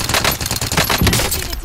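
Rapid automatic gunfire from a battle royale video game, dense bursts of shots crackling loudly and continuously with faint voices underneath.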